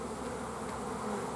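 A honeybee swarm pours out of the hive in the rain, a dense, continuous buzzing hum of many bees, steady and fairly close throughout.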